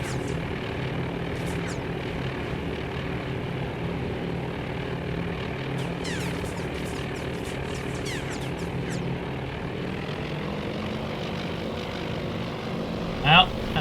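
Engines of WWII torpedo bombers and dive bombers in a carrier simulator game, a steady propeller-aircraft drone held throughout, with a brief louder burst near the end.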